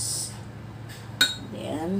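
A spoon stirring chili sauce mixture in a bowl, with faint scraping and one sharp metallic clink partway through.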